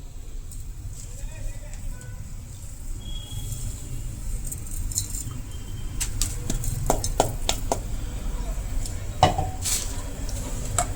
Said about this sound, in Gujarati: હવે આ પાવડરને આપણે ડાયરેક્ટ પાણીમાં નાખીશું